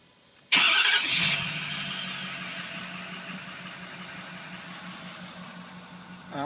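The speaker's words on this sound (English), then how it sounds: "See if we can fire it up again." A truck at an auction cranks and fires up with a sharp start, then settles into a steady idle that holds for several seconds, close and fairly loud with no talk.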